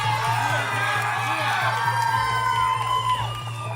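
Crowd at a send-off for graduating seniors cheering and whooping, with high excited shouts and voices layered over a steady low hum, fairly close and lively.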